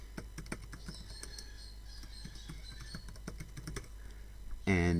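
Typing on a computer keyboard, quick irregular clicks of keys close to the microphone over a low hum, ending in a short louder tonal burst.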